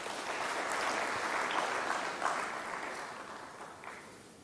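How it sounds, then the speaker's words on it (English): An audience at a Makerere University annual public lecture applauds in a continuous, moderately loud round that swells and then slowly fades. "Can we please give a round of applause?"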